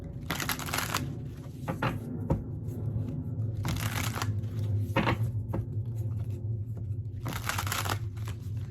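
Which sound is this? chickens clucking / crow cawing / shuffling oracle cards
shuffling oracle cards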